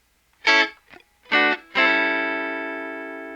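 Electric guitar with a distorted, effected tone plays a chorus line: three quick plucked notes, then a final chord left to ring and slowly fade, close and alone.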